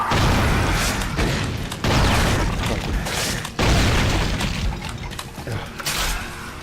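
Heavy shotgun blasts in Brutal Doom fired at a Revenant: several loud booming shots spaced a second or two apart over a dense, roaring game soundscape.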